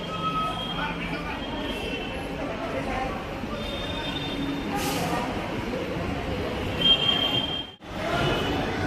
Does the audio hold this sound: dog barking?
no